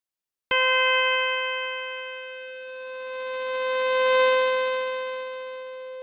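A wavetable tone from the QasarBeach Fairlight CMI emulator, stepped through segment by segment: one sustained synthetic note that begins abruptly and holds steady while its timbre slowly swells and fades, heard alone.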